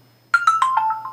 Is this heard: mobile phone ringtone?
yes